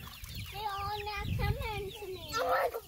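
A French Black Copper Marans chicken clucks in a farmyard that also keeps turkeys, with a run of close, throaty calls rising and falling over a low background rumble and ending in a louder burst.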